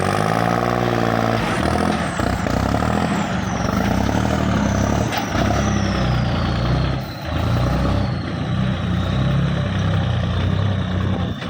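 A 2017 Kubota L4018 tractor with front and rear implements drives along with four-wheel drive engaged, its diesel engine a loud, steady rumble close by, with no pauses.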